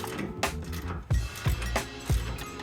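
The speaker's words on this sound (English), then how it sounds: "to get this bolt off, you're gonna need a there we go. Just a socket and a wrench." A socket wrench loosens a bolt on a Nissan 350Z, heard up close as several sharp ratcheting clicks in quick succession, a few separate bursts over a mechanical background.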